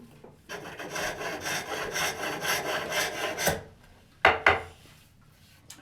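Finishing cuts on wood turning on a pole lathe: a rhythmic run of rasping tool strokes against the spinning wood for several seconds, a pause, then two sharp closer scrapes.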